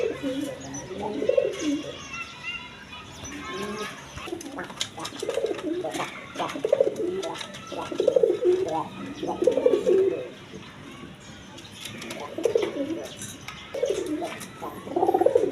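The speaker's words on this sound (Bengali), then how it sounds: "এক পেয়ার রেড কালার গররা কবুতর আছে" A pair of red high-flying Giribaz gorra pigeons coo in repeated soft, throaty rolling phrases at close range, with faint chirps and rustles between the calls.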